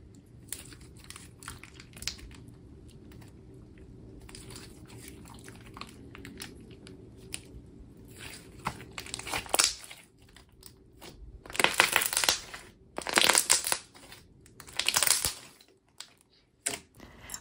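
Slime packed with large marshmallow-like foam beads, squished to give bursts of crunching, crackling pops that grow louder and denser toward the end, after a quieter stretch of soft handling.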